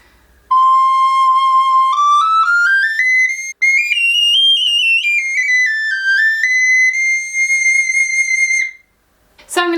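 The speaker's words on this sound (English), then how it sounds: "The lowest note of the GARKLEIN is, are you ready for it?" A high, pure whistling tone from a tiny garklein recorder holds steady on its lowest note, C6, then glides upward and wavers through a series of pitches before stopping.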